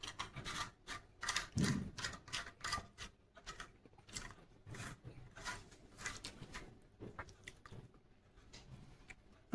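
A biscuit press machine shapes homemade atta (whole wheat) dough biscuits, giving close, repeated rasping and rubbing strokes in an uneven rhythm, with a louder grinding scrape early on and no talking.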